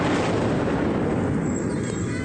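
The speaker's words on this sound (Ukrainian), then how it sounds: "Свист ракет та потужний вибух одесити почули під час 7-ї за день повітряної тривоги" A missile explosion in Odesa during an air raid alert, heard as a loud, sustained roaring rumble that fills the whole stretch and then cuts off abruptly, with no speech.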